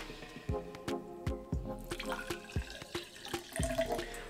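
Soda water pours and splashes into a Collins glass in a series of short gushes, close by, with small drips between them.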